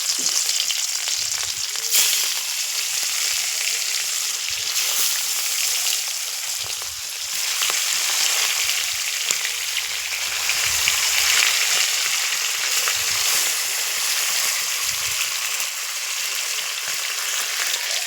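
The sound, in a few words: fish frying in hot oil in a wok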